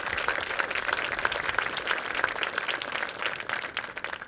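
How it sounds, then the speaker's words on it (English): Audience at a school groundbreaking ceremony giving a round of applause, a steady, moderately distant patter of many hands clapping that holds through without talk. "Let's give them all a round of applause"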